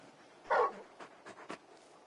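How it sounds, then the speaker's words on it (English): A large dog in the Final Fantasy XVI video game whimpers and whines in a few soft, close cries, the first one louder, with no talk over them. "You're just a big puppy, aren't you?"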